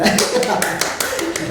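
A group claps hands in a quick, uneven patter of light claps, partly buried under people talking nearby.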